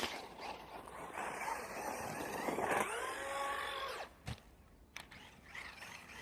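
A Traxxas Maxx RC car with a damaged differential runs with a high electric motor whine that shifts pitch. It then cuts out, followed by a few clunks and quieter mechanical noises.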